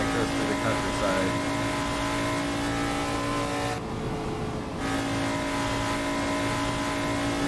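An American V8 in a Shelby Daytona, driven hard on the Isle of Man TT course through countryside, gives a loud, steady, sustained engine roar with a brief dip in the middle.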